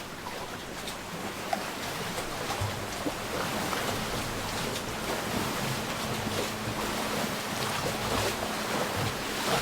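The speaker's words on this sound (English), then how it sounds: "The waves come in, it gets pretty exciting" Ocean waves rolling in at an outdoor seaside spot, a steady loud wash of surf with gusty wind buffeting the microphone throughout, no voices.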